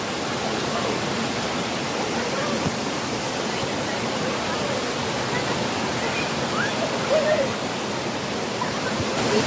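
Ng Tung Chai waterfall on a Hong Kong hiking trail: a continuous broad rush of falling water, steady and fairly loud, with faint bird calls and distant voices barely showing through.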